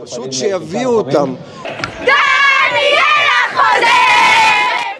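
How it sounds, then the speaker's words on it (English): An excited crowd of parents in Israel cheers and shouts loudly and continuously, celebrating as female hostages are released, with high raised voices overlapping close by. "The parents of 4 Israeli female hostages burst into cheers and clapped as they watched their daughters being released from Hamas captivity."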